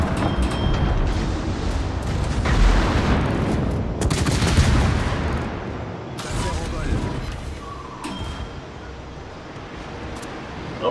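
Warship guns fire in World of Warships, heavy booming salvos and crackling blasts rolling over a dense continuous battle roar, with someone talking throughout.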